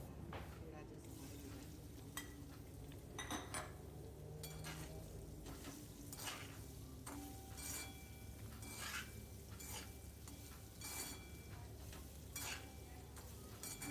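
Sliced raw banana curry with turmeric stirred in a pan with a spatula, repeated scraping strokes over a faint low hum, quiet and close.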